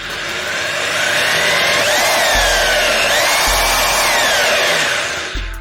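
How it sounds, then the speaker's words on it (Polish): A Makita HR2631F rotary hammer drill's motor whines loudly and steadily with no load, its pitch swelling and dipping as it spins up and runs for several seconds with no voices. "Widzimy, wiertarka swobodnie wchodzi na obroty."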